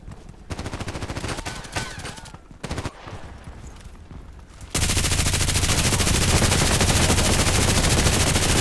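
An RPKT machine gun fires in the Contract Wars shooter game on hardcore mode, first in short bursts and then in a long, dense, loud continuous stream of rapid shots.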